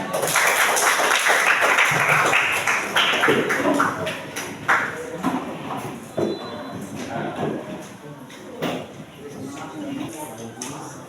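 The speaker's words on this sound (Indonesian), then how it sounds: "Beri tepuk tangan." A school audience bursts into loud, dense applause that thins out after a few seconds, followed by a voice speaking over the room noise.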